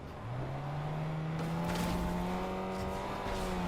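A golf cart drives in the Fortnite video game, its motor whining with a rising then steady pitch as it accelerates, accompanied by tire noise and a brief squeal.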